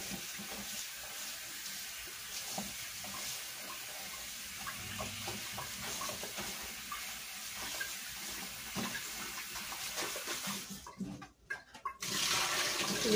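Tap water runs steadily into a kitchen sink as chard leaves are rinsed, a soft continuous splashing that swells and turns more turbulent near the end.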